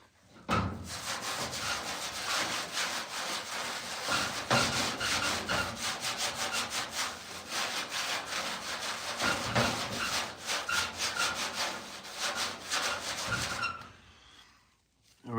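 A Scotch-Brite pad scuffs the painted door of a 1969 VW Westfalia in a single garage, giving rapid, continuous back-and-forth rasping strokes, close and loud, that stop near the end with a faint pause before a final sound.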